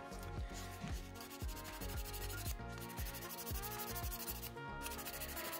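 A nail file rubs back and forth on an acrylic nail in quick, repeated strokes, a close, scratchy sanding rhythm with no talking.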